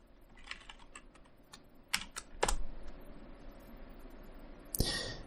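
Quiet keystrokes tap in a quick irregular run on a computer keyboard, with a few louder clacks and a final sharp key hit.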